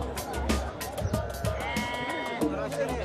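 Sheep bleat repeatedly at close range, several wavering calls overlapping one another with farmyard background noise and no speech.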